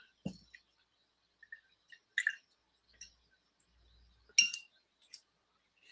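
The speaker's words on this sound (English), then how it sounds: "Gotta wash our brush a little bit." A watercolor brush is rinsed in a water cup: sparse, soft clinks and taps against the container, a few small swishes and a brighter knock near the end, close and quiet with no talking.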